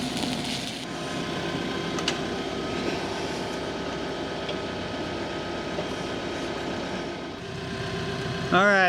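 A diesel tractor engine idles steadily nearby with a low droning hum, a faint voice briefly audible over it.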